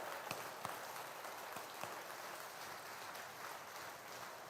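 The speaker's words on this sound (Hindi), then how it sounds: "ताली तो बजा दीजिए, ऐसे नहीं, ऐसे ऐसे बजाइए" An audience at a Hindu devotional gathering for Hanuman claps steadily, a dense wash of applause heard from a distance with a few sharper claps standing out.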